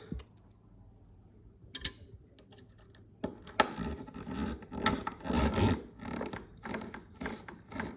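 A screw being driven into a plastic part of a KITT model car kit, with close, quiet scraping, clicking and rasping bursts in an irregular rhythm, no talk.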